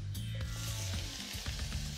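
Garlic hitting hot olive oil in a pan sizzles with a soft crackling hiss, mixed with faint clicks and scraping from the cookware, no voices present.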